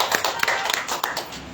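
A church congregation claps hands together, with a run of sharp, uneven claps close by over a dense background.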